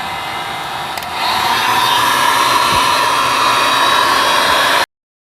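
A heat gun blows hot air onto a metal tubular A-arm, a loud, steady rushing hiss that starts after a brief quieter moment and runs unbroken until it cuts off abruptly.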